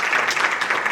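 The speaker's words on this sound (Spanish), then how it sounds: "Yo creo que se merece un aplauso." Applause from the audience at a talk on Mapuche perspectives in Chile, a brief burst of steady clapping heard from a moderate distance with no voices over it.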